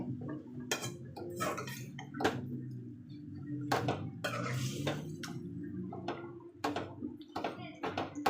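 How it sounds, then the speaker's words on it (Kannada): Metal clanks and clatter from a cooking pot being covered with its lid after marinated chicken and a little water go in for a North Karnataka chicken fry. Several sharp knocks sound close by, with someone talking throughout. "ಬಾಯಿ ಮುಚ್ತೀನಿ."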